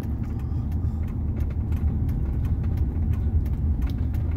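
A 1987 Pontiac Parisienne passes on Highway 1, its engine a steady low rumble with road and tire noise holding close and even throughout.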